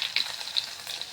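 Chopped ginger hits a hot frying pan with a brief bright sizzle, a short crackling hiss close up.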